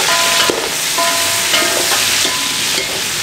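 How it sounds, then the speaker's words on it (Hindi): Beef with green chillies frying in a pot, a steady loud sizzle broken by repeated scraping strokes of a spoon stirring and turning the meat, with no voices. "ये शामिल करते हैं और अच्छे तरीके से भून लें।"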